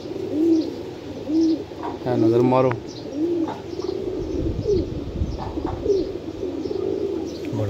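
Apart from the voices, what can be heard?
pigeons cooing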